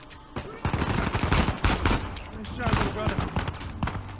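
Rapid gunfire bursts from the Uncharted 4: A Thief's End video game crackle and pop densely throughout, loud and close, with a voice speaking over the shooting.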